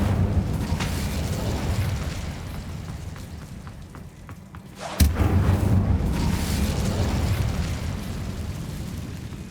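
A fire spell blast in a fantasy video game, a loud whooshing burst that surges suddenly midway over a rumbling low background, then settles into a sustained crackling roar.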